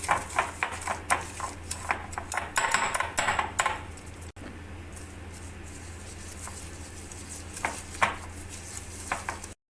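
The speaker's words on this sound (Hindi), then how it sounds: "अब हम इसमें शुगर डालेंगे और इसको दोबारा विस्क के साथ मिक्स करेंगे।" Butter and sugar being whisked together in a bowl for homemade Danish cookies, a steady run of quick metal scraping and clinking strokes that is busier early on and then thins to scattered taps, with no talking.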